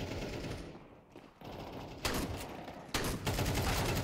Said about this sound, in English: what's this MAG-7? I remember that. It's a shotgun, right?